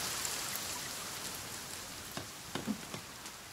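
Steady rain falls in the survival video game The Forest, a dense wash of patter throughout with a few sharper drops near the end, heard alone without talk.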